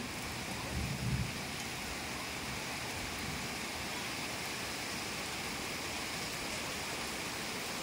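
Steady heavy rain pours down in the Philippine countryside, a dense broadband hiss that holds for the whole stretch, with a brief low rumble of thunder near the start.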